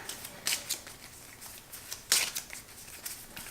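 A deck of cards for the board game Witches of the Revolution is shuffled close by in quiet, soft riffling bursts, with two louder flutters standing out.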